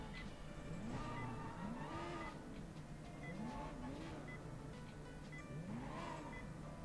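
A car drives through the streets in Sleeping Dogs, its engine droning steadily and rising and falling in pitch as it speeds up and eases off, with no talking over it.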